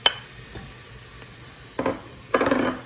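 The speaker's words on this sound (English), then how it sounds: "You're going to throw in your minced garlic." Minced garlic with onions sizzling in a pan while being stirred: a soft frying hiss under a few short scraping stirs, close and modest in volume.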